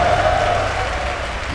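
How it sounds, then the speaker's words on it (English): Arena crowd at The International esports tournament cheering for team iG during the losers bracket finals, a steady, loud wash of shouting and applause. "we need to get the crowd to cheer a bit for the teams"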